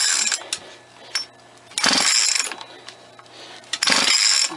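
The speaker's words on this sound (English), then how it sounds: "Ah, damn it, gauge fell." A compression gauge drops off a motorized bicycle engine during cranking and strikes a hard surface, giving a few sharp metallic clatters and rattles between mechanical cranking noise, close and fairly loud.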